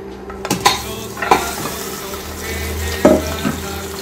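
Beef bones browning in hot oil in a pot, a steady close sizzle broken by a few clanks and scrapes of stirring, with no voices.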